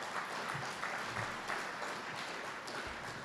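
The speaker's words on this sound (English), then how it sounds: "Please let's give Bahama a round of applause." Audience at a chamber of commerce power breakfast giving a round of applause, a dense, even clapping that fills the room for a few seconds, fairly faint and without speech.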